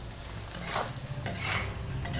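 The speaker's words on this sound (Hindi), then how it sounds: "अब इसे अच्छी तरह से मिक्स कर देंगे।" Dry spices being stirred into a potato and bean sabzi in a pan, soft scraping strokes of a spoon over a low sizzle, a few brighter scrapes standing out, close and quiet without talk.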